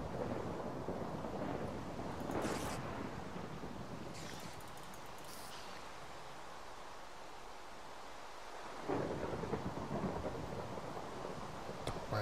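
Steady rain hisses through a Minecraft game world while rumbles of thunder roll in, with a louder burst of rain and thunder near the end; no one speaks.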